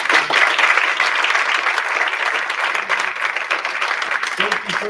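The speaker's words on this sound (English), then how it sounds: "Give a big round of applause." A presentation audience gives a big round of applause, dense, continuous clapping that starts strong and eases slightly over several seconds, with faint voices mixed in near the end.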